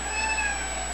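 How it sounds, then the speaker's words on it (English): A pet house cat meows in a steady, drawn-out, whiny cry that fills the whole moment, close by and fairly clear. "if you hear constant meowing, that's my cat"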